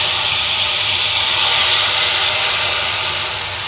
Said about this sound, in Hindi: ये जो तड़का हमने तैयार किया है हम डाल देंगे इसे दाल के अंदर